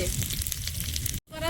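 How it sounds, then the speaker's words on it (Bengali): Whole garam masala and bay leaves sizzle in hot oil with a steady, bright frying hiss that briefly cuts out and then resumes, while a voice speaks over it. "গোটা গরম মশলা তেলে দিচ্ছি, আর দেবো 2টো তেজপাতা, চেরা কাঁচা লঙ্কা, একটু গোটা জিরে"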